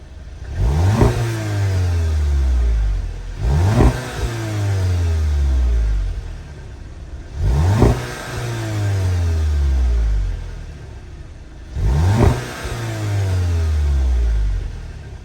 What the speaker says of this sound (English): Under the hood of this 26 Jetta GLI is Volkswagen's 2-liter turbocharged inline 4-cylinder engine